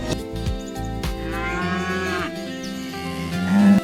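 Cows moo loudly over a steady musical backing, one long low bellow rising near the end, with no voices.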